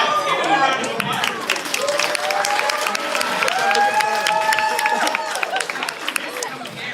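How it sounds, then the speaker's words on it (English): A studio audience gives a round of applause with crowd cheering, dense and close, while voices talk over the clapping throughout. "give him a round of applause"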